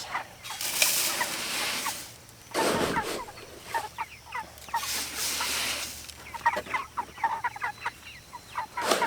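Several chickens cluck and squawk close by, their clucks coming in short irregular bursts with no talking.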